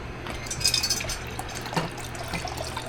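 Liquid from pear preserves poured into a container, a soft trickling splash with a few glassy clinks over quiet room noise, no talk.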